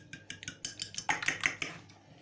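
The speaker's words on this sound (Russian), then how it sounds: "Я слегка перемешиваю яйца." Eggs lightly whisked for honey cake batter, a quick series of about a dozen light metallic clinks and taps of a utensil against a bowl, close and quiet.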